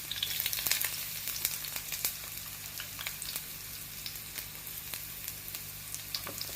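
Ginger sizzles in hot oil with shallots and mustard seeds, giving a steady close crackle and hiss dotted with small pops, heard on its own without speech.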